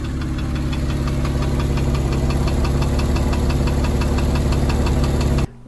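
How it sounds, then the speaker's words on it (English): An idling 996 engine with a rapid, steady metallic ticking and knocking from its Variocam solenoids, loud and close, stopping abruptly at the end. "You know that metallic noise I was talking about?"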